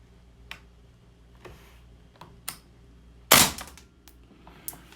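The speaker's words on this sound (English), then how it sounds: "So the first shot through the gun" A VFC H&K PSG-1 gas blowback airsoft rifle fires a single sharp, close shot with a quick mechanical snap, set among a few faint clicks and handling taps in a quiet room.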